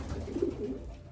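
Pigeons in a loft give low, soft coos, a few muffled throaty calls in quick succession against a faint background hum.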